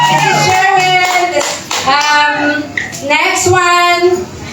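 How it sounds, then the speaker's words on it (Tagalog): A live concert audience in Hong Kong claps for the band's drummer, with a dense patter of applause mixed with voices and music. "Palakpak naman dyan!"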